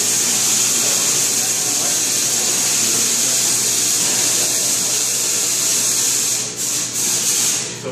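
A large Tesla coil at Griffith Observatory discharges electricity in a loud, continuous buzzing crackle that holds steady and then breaks up into a few stuttering bursts as it cuts off near the end.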